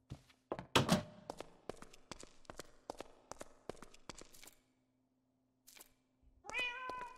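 Cats meowing in a video game city: scattered thumps and footsteps through most of the stretch, then a clear, fairly close meow near the end after a brief silence.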